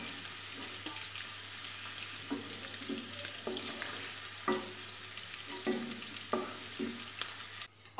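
Paneer fries in oil in a kadai with a soft, constant sizzle and a steady low hum, while a spoon scrapes and stirs at irregular intervals.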